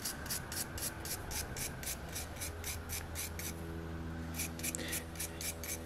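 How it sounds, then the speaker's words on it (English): Brushing residue off a zinc-plated bolt, a quick, steady run of scratchy strokes close by, pausing briefly before resuming at the same pace over a faint background hum. "we'll just brush it. And this is called combing."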